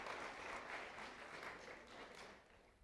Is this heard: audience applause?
yes